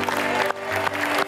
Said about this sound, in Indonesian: boleh berikan tepuk tangan untuk sang papa.